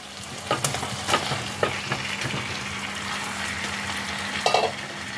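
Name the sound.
boiled potatoes added to hot spices and stirred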